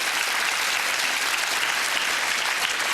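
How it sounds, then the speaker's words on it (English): Studio audience applauding on a 1997 British game show, a dense, steady wash of clapping that stays loud and even throughout with no voices on top. "Give yourselves a round of applause there."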